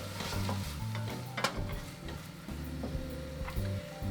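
Fresh herbs frying with garlic and onions in a pan over medium-low heat, a steady close sizzle broken by the scrape and clatter of stirring.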